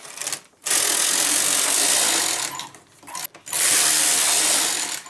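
A knitting machine carriage sweeps back and forth knitting rows of yarn for a knotted shawl scarf, loud continuous rasping passes broken by two short pauses, no voices.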